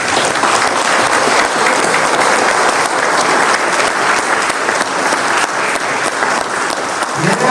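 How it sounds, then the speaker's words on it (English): Loud, sustained applause from an audience at a National Vietnam Veterans Day 50th anniversary program, dense clapping that holds steady from start to finish. "Give them a hand of applause."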